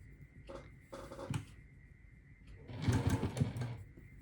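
Sewing machine stitching a quilt block, running in a few short bursts and then a longer fast run with a steady mechanical whir and rapid needle thumps, close by with no talking.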